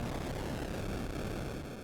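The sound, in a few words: explosion in an Atari 7800 motorcycle video game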